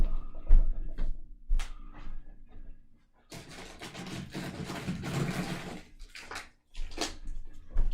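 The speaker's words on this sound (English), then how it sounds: "we're going to take a tiny little bit of water and we're going to pour it in here" A small amount of water is poured into a container, a brief splashing pour in the middle between scattered clunks and handling knocks.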